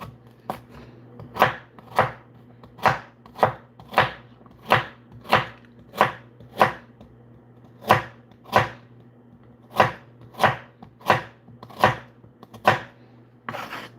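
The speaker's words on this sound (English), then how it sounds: "And just cut up these carrots." A knife chopping carrots on a cutting board for pickled peppers, a steady series of about eighteen crisp, close, evenly paced cuts over a faint background hum.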